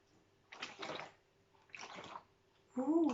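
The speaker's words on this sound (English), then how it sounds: "like a sploosh, sploosh, sploosh" Water splooshes and splashes in short bursts, two soft separate splashes followed by a louder, fuller surge near the end, all quiet and close with no talk.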